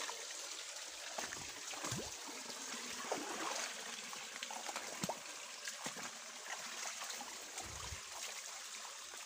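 A small stream trickles and gurgles steadily over rocks, close by and fairly quiet, with no voices.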